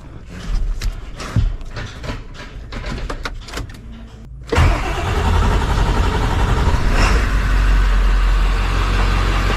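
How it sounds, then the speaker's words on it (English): Ford truck engine cranking to life and settling into a steady, fairly loud idle, preceded by a few seconds of clicks and clunks, with no speech. "So as you can hear, the truck is running."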